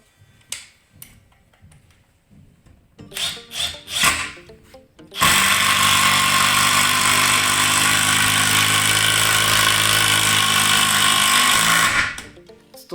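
A Parkside PDSSAP 20-LI cordless impact driver drives a screw into wood, starting with a few short motor bursts before a loud, continuous hammering rattle runs for about seven seconds and then stops abruptly.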